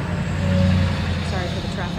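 Steady road traffic rolls past outside a rock shop in Quartzsite, Arizona, making a continuous low rumble of vehicle engines at moderate distance. It runs under the scene without clear individual pass-bys.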